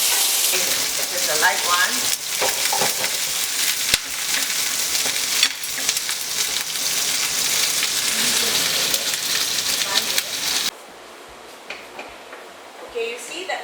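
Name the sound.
fish frying in oil in a pan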